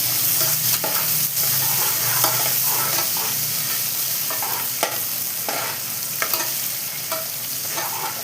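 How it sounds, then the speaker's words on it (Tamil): Sliced onions sauté in oil in a pan for prawn biryani, crackling and sizzling steadily up close, broken by occasional scrapes and taps of a stirring spoon, with no talk. "வெங்காயம் வதங்க கொஞ்சம் உப்பு போட்டுக்கலாம் கொஞ்சமாக உப்பு போடுறேன் கொஞ்சமாக உப்பு வெங்காயம் வதங்கிறது"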